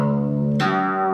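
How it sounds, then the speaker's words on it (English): A bass guitar played below the nut, heard as a sustained, harmonically rich note that is freshly plucked midway, giving a bright attack that then rings and slowly decays. The sound is alone, with no talk. "If you play under the nut, the bass sounds like this."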